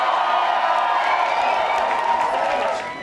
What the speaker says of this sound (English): Make some noise for those young guys